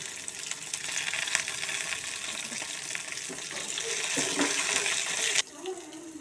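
Shallots, ginger, tomato and drumstick leaves fry in a pan for drumstick leaf chutney, giving a steady, close hiss of sizzling that fills the whole stretch and cuts off sharply near the end.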